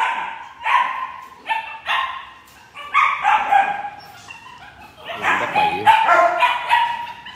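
Several dogs bark at a kennel raising Rottweilers and Malinois, repeated loud bursts of barks and yips in uneven clusters, with some whimpering between them.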